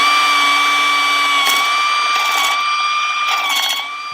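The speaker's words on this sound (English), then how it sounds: "just making sure that as the barrel of the hole saw is coming in, it's nice and central" A hole saw bores through a plastic motorcycle rear reflector to fit an INNOVV K2 rear dash cam, giving a steady high-pitched whine with short gritty bursts of cutting.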